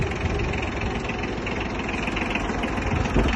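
A Yanmar F-155 three-cylinder 15-horsepower 4x4 tractor engine runs with a steady, loud, close diesel throb and knocking clatter, no talk.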